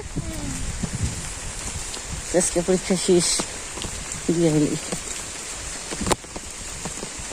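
Steady rain patters on surfaces in a wetland village on a rainy day, a constant close hiss running beneath a person talking.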